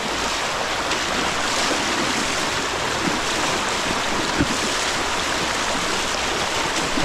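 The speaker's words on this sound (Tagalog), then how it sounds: "Lakas ng agos ng tubig." A strong, fast river current on a Taiwanese river rushes in a loud, dense roar of water, steady throughout with occasional small splashes and no speech.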